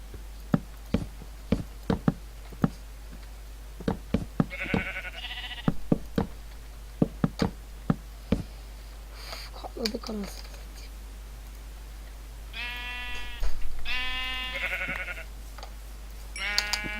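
Several sheep bleats from Minecraft ring out among sharp knocks and clicks, with a voice talking intermittently over them.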